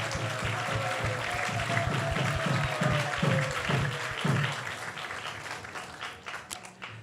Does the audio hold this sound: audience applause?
yes